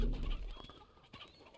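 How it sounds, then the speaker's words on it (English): Chickens in the video game Uncharted 2 cluck in short, soft bursts with a few sharper calls, fairly faint and brief against quiet game ambience. "Chickens!"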